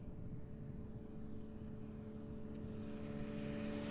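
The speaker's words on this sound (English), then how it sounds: "KLM from Milan coming in, 737." A KLM Boeing 737 arriving from Milan on landing approach at Amsterdam Schiphol's Polderbaan runway gives a steady, close engine roar with a low whine that holds throughout on a cloudy day.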